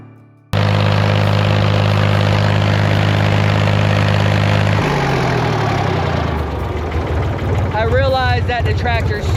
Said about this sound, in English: That the tractor is super loud,